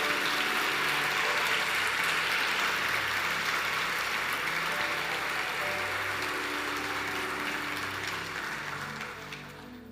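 A church congregation claps and cheers loudly in a steady dense wash of applause throughout, with sustained musical tones underneath, gradually tapering slightly near the end.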